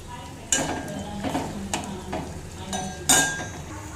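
Sliced onions frying in a pan for brinjal bajji, with a steady sizzle broken by several sharp scrapes and clinks of a spoon stirring against the metal.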